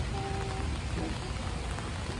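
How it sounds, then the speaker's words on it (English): Rain falls steadily outdoors before sunrise, a dense close patter on surfaces filling the whole stretch without a break. "We're in the rain."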